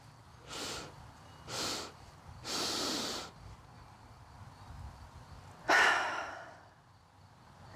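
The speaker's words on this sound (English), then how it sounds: "going to take 2 sharp inhales and then 1 full inhale. And then we'll hold at the top for about 3 seconds. And then we'll fully breathe out of the mouth" Breathing exercise: two short, sharp nasal inhales, then one longer full inhale, a pause, and a forceful open-mouth exhale, all close and clear against a quiet room.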